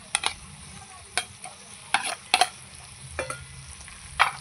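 Prawns with mushrooms, turmeric and salt are stirred in a pan. A spatula scrapes and knocks in irregular strokes over a soft, steady sizzle, close up with no talk.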